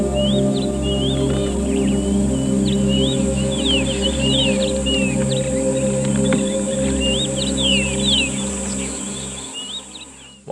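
Bird calls ring out over a Kruger Park morning, a series of short chirping phrases repeating at a moderate distance over a steady low hum and faint background drone.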